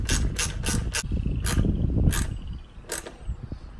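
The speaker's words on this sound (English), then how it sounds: "and tightening down hose clamp." A hose clamp being tightened on a cold air intake for a 2005-2009 Roush Mustang, loud close metallic ratcheting clicks in uneven bursts with a rustling mechanical rattle in between.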